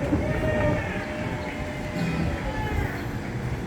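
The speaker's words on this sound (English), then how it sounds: "We can directly see the N train at Astoria Boulevard." An NYC subway N train rumbles steadily at Astoria Boulevard, a broad, continuous roar of wheels and cars heard from nearby with faint squeals on top.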